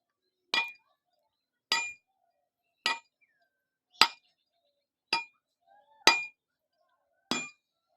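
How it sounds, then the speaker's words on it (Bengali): A coconut is struck to crack it open: seven sharp, hard knocks come at even intervals about one second apart, each clear and close against near silence. "ফেটে গেছে নারকেল"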